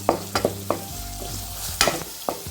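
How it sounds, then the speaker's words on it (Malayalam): Tomato masala being stirred and sautéed in a pan gives a low sizzle broken by sharp, quick scrapes and knocks of a spoon against the pan, several in close succession, and no one speaks. "അപ്പോൾ നന്നായി വരുന്ന വരെ നമ്മൾ നന്നായി ഒന്ന് ഇളക്കി യോജിപ്പിച്ചെടുക്കണം."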